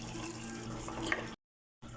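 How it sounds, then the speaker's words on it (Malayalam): Water is poured into fish curry in a pan, making a steady, faint pouring rush for about a second and a half before it cuts off abruptly. "മീൻ വേകാൻ ആവശ്യമായ വെള്ളം നമുക്കിതിലേക്ക് ഒഴിച്ച് കൊടുക്കാം."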